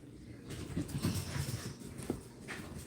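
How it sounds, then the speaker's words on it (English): Dog nearby whimpering and panting softly, with breathy huffs and faint whines over a low background hum. "There's the dog."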